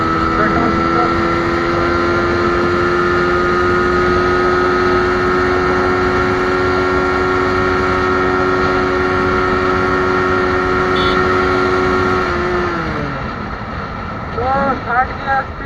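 A TVS Apache RTR motorcycle in third gear, its engine holding a loud, steady drone that falls away as the throttle is released near the end, followed by softer rumbling.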